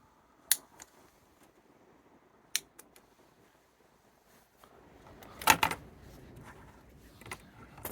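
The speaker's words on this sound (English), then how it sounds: "We've got a branch on the inside here, we're just going to snip out." Hand snips cut Japanese maple branches during pruning, giving a few sharp, quiet clicks spread across the moment. A denser cluster of snipping and rustling comes near the end, in an otherwise quiet setting.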